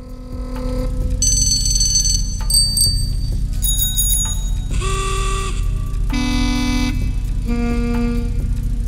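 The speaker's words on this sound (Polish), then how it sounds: "Klaksony." Need for Speed Heat plays a rapid run of different car horns over a steady idling engine, with short bell-like chimes, musical toots and several sustained buzzy blasts in quick succession.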